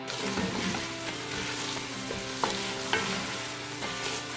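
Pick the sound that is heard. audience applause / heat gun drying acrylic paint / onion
onion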